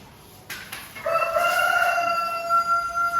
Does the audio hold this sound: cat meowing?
no